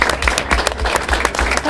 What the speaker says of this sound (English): A round of applause before I start.